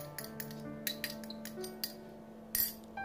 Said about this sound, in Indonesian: Kita tambahkan, kemudian aduk sampai semua bahan tercampur rata.